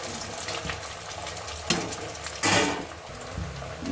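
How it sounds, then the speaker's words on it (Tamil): Taro root pieces frying in hot oil in a home kitchen, with a steady sizzle and crackle and a couple of louder splashy bursts from stirring, close and continuous with no talking. "பாருங்கள் சேப்பங்கிழங்கு வந்து நல்லா ஃப்ரை ஆகிட்டுருக்கு."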